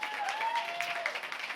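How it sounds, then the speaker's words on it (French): A live podcast audience claps for the guests, producing a short burst of dense, even applause with a faint whistle-like tone running underneath. "Un petit applaudissement."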